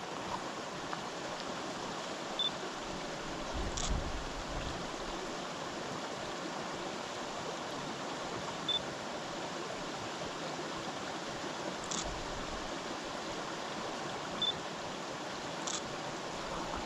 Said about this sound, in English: Two waterfalls, one after another.